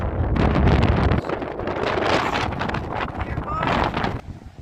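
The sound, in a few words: strong wind blowing on the beach at Ramsgate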